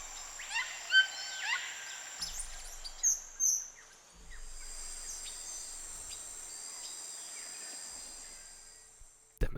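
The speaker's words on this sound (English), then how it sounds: "Let's skip a few of these and go to tropical birds." A tropical bird soundscape from the Terra Incognita sound library: a steady high insect-like drone with scattered bird chirps and calls, fairly quiet, with soft low rumbles in the background and no voices.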